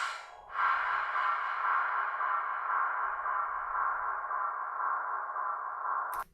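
Rendered sound-design texture built in Bitwig with bit-8 distortion, delay and reverb: a sustained airy, sonar-like hiss and ringing tone that swells in after a short attack, trails on with echoing delay, and stops abruptly.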